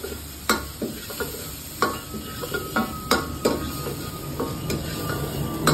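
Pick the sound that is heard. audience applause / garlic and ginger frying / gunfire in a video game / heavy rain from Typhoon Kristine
garlic and ginger frying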